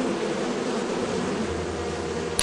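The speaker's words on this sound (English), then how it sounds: "Thunder bees!" Dense, steady buzzing of a swarm of thunder bees in the video game Lethal Company, a continuous close insect drone with no voices over it.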